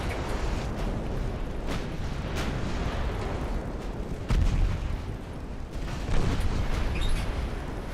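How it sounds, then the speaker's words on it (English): Warship main batteries firing in Ultimate Admiral Dreadnoughts: a sustained low roar of naval gunnery punctuated by several distinct heavy booms spaced a second or two apart, loud and continuous throughout. "I don't like that only my front guns can fire."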